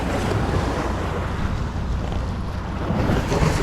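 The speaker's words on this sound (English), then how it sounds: "Big boat waves right here." Wake waves from big boats passing on the St. Lucie River slosh around a fishing kayak, a steady close wash of water mixed with heavy wind buffeting the microphone.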